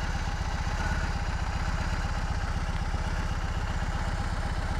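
A BMW R18 motorcycle engine idles steadily up close, its low, even pulsing beat running without break and with no talk over it.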